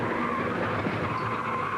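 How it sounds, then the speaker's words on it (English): A NASCAR Cup car hits the wall hard at turn 1 during a 2003 race and spins toward the bottom of the track, a continuous loud skid and tire scrub with engine roar. "Trouble, turn 1, hard, a car in the wall, and spinning down to the bottom"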